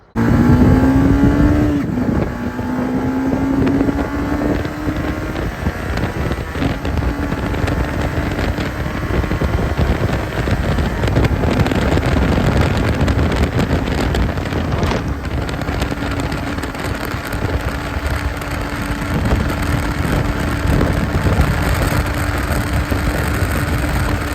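A Barton GT 125 or Junak RXOne125 motorcycle riding uphill, its engine note rising through gears with a clear climbing whine, loud and close, heavily buffeted by wind noise throughout.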